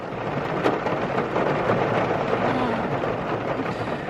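Steady heavy rain pours down with a low rumble of thunder underneath. It sounds loud and constant, as if heard from inside or near a car, with faint voices in the background.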